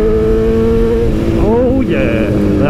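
BMW S1000RR motorcycle engine on a test ride, with rising and falling revs in close, loud harmonic whines, wind rush and a brief shout partway through.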